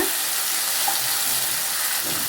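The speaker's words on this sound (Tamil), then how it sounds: "நம்ம சேர்த்த தக்காளி நல்லா வதங்கிடுச்சு" Onion and tomato sautéing in a pan for a Kumbakonam kadappa: a steady, loud sizzle of frying throughout with faint stirring, no voices.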